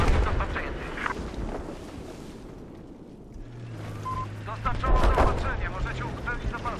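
Gunfire from a weapon in the multiplayer shooter Battlefield 4, a dense run of sharp broadband shots with booming low rumble, heard alongside people talking.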